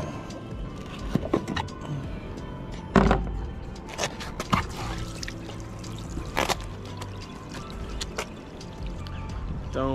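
Gray water from a camper pours and splashes in bursts with clattering knocks and handling noises, moderately close, no talking.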